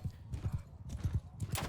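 Horse hooves clip-clop in a steady, close rhythm in Mount & Blade II: Bannerlord, loud and continuous with paired hoofbeats under faint background noise.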